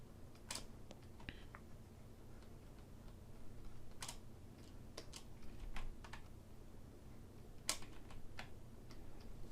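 Computer keyboard keys are pressed sporadically during 3D character modeling work, giving faint, scattered individual clicks over a low room hum, quiet and close with no speech.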